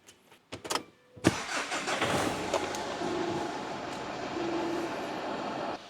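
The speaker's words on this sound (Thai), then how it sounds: "ก็มาลองสตาร์ทเครื่องยนต์ฟังเสียงการทำงานของเครื่องยนต์กันดูนิดหนึ่งนะครับ" A Mitsubishi Triton 2.5 GLX 4x4 pickup's diesel engine, with about 210,000 km of use, cranks a few times, then catches and settles into a steady, loud idle with a low rumble that continues to the end.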